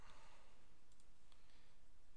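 Mouse clicking while tracing with the Photoshop pen tool, a few faint, sharp isolated clicks over a steady background hiss.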